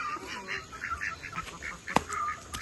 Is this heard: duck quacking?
yes